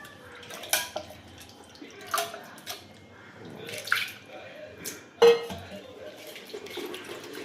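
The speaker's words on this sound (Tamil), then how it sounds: "இப்போ 3வது தடவை வடிகட்டுறாங்க." Tamarind water is strained for a home-style fish curry, with intermittent splashes, pours and drips alongside light clinks of kitchen vessels. The sounds are close and moderately quiet, and there are brief pauses between them.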